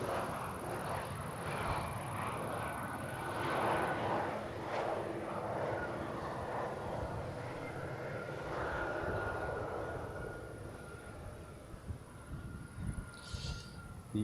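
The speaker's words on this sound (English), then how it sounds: "The British Airways flight just came in." A British Airways airliner lands at Schiphol on a windy day. A fairly faint, broad engine roar builds and then fades over several seconds, leaving quieter ambient noise with small knocks near the end.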